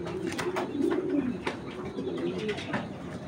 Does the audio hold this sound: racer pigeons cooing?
yes